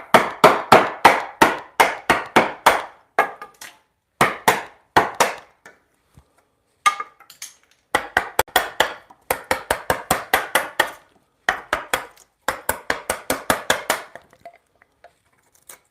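Wooden mallet striking wood during hand-tool woodworking, a loud close series of sharp knocks in quick rhythmic bursts separated by brief pauses, no talking.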